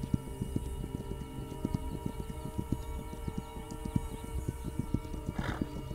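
Horse riding in the game This Land Is My Land: a brisk, steady stream of hoofbeats at close range over a low ambient hum, with a short breathy snort near the end.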